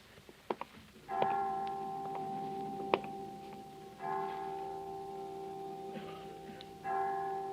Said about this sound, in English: I didn't know the children's home had chimes.